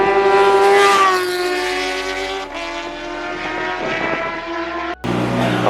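Track-day superbikes screaming past the pit lane at Almeria circuit, loud high-revving engines with rising and falling pitch as several machines pass close by in quick succession, no talking.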